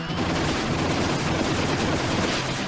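Sustained machine gun fire in the Double Dragon video game: a dense, unbroken roar of rapid shots at steady loudness with no pauses.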